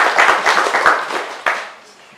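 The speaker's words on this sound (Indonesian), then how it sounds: "Berikan aplaus yang terbaik buat kita." Church congregation applauding, a burst of close clapping that fades out over about two seconds, with a voice briefly heard.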